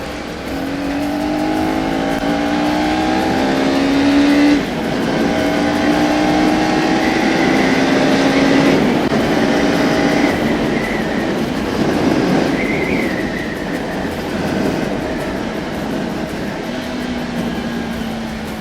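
A 2024 KTM Duke 250 with a liquid-cooled DOHC engine and six-speed gearbox, heard while riding: a steady, loud engine drone with rising and falling pitch as it runs through the gears, mixed with wind rush and no talk.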